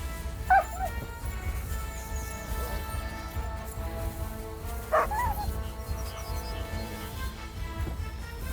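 Dog in Kingdom Come: Deliverance II giving a few short yips and whimpers, one sharp near the start and another mid-way, over a low steady game ambience with no talking.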